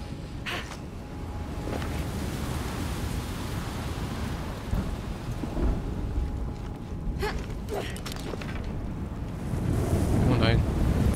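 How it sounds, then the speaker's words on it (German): Loud, continuous gusting wind roars through a stormy scene in the video game Shadow of the Tomb Raider, with rumbling low noise and occasional sharp bursts, growing stronger toward the end. "Es ist windig."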